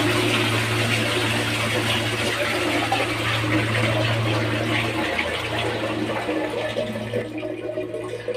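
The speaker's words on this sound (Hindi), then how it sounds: "यहाँ से एक बार फ्लश करेंगे एक बार एक बार सारा से पूरा फ्लश कितना तगड़ा पानी आ रहा है" A newly fitted bathroom toilet flushes with a strong, loud rush of water that pours steadily for several seconds, then starts to ease toward the end, with no voices over it.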